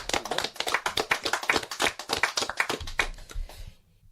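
Applause for sommelier Philippe Faure-Brac, winner of the world's best sommelier contest, on a talk show: a small group clapping in quick, close, distinct claps for about three and a half seconds before stopping.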